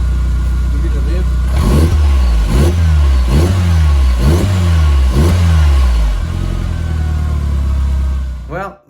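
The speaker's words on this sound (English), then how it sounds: "Give it a rev." A VW Golf Mk4 GTI engine, freshly serviced with a new fuel filter and oil change, revs sharply five times in a row, each blip rising and falling over a steady idle, loud and close.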